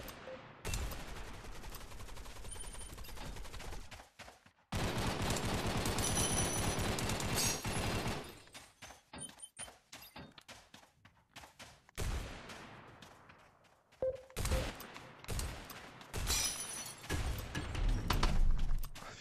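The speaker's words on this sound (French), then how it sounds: "Ah il y a quelqu'un qui tire, on va essayer de l'avoir." Rapid gunfire in the VR shooter Gun Raiders, dense bursts of automatic fire and single shots, loud and close, with brief pauses between volleys.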